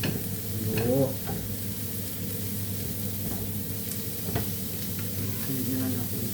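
Garlic and minced beef sizzle steadily in a pan while being stirred, a close, continuous frying hiss with a brief voice in the background.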